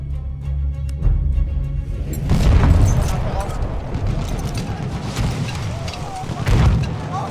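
A grenade blast in the video game Battlefield 1 on the Argonne Forest map: a loud, deep boom erupts partway through, then rumbling battle noise and scattered shots follow with voices calling out.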